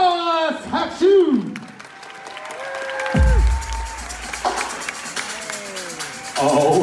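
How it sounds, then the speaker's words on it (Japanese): A crowd at a house dance showcase event applauds and cheers, a broad clapping wash that sits under an emcee's amplified talking and fades in and out. "ノーベル Nextus 拍手"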